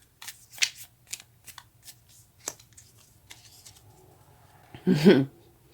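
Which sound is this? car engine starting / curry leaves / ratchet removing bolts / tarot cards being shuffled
tarot cards being shuffled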